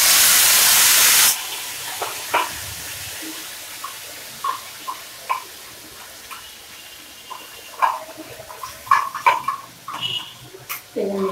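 Ginger, tomato, turmeric and salt sauté in hot oil, opening with a loud, close burst of sizzling hiss that drops to a quieter fry with scattered light clicks of a spoon against the pan.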